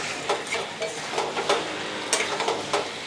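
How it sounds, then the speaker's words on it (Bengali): Chicken meat and chopped tomato fry together in a pan for a spiced chicken curry, a close steady sizzle broken by rhythmic stirring scrapes about every half second, with no talking. "টমেটোটা দিয়ে আবার ভালো করে আমি মাংসটা কষিয়ে নেব।"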